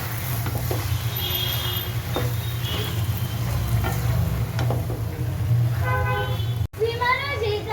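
A spoon stirs boiled flat beans and potatoes with spices and soft tomato in a sizzling pan, with repeated scraping strokes over a steady fry.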